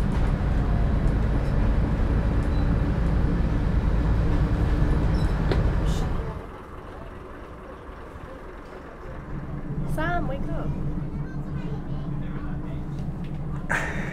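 Heritage train on the Midland Railway at Butterley, heard from aboard as a loud, steady rumble of wheels and carriage, easing to a quieter run midway before building again, with voices talking faintly over it.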